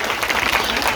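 An audience at a Jai Bhim Ekta Samiti Ambedkar Jayanti event in Jahangir Puri applauds children with a dense, loud burst of clapping that lasts the whole moment.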